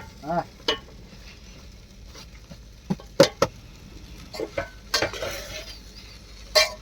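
A spoon stirs and scrapes avalakki upma through a pan after coriander leaves go in, irregular close metallic clinks and scrapes over a faint low sizzle, with quiet gaps between strokes.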